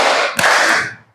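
A classroom of students gives a single burst of clapping in a classroom chant, a dense wash of many hands striking together with one sharper accent in the middle before it fades.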